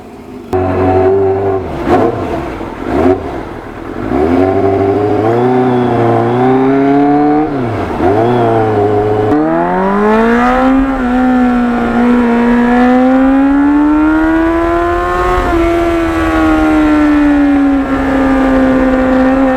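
A restored Kawasaki Ninja motorcycle engine, loud and close, revs and climbs through several quick gear shifts, then settles into a sustained rising and falling engine note during a short ride.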